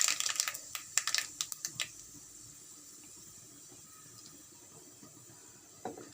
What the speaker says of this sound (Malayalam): ചമ്മന്തിയുടെ അരപ്പിനാണ് കടുകെല്ലാം പൊട്ടിക്കുന്നത്